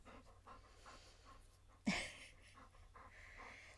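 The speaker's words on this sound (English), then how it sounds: "You really gonna stand down there panting in the microphone, huh?" A dog pants close into the microphone in quick, rhythmic breaths, with one louder snort or huff partway through.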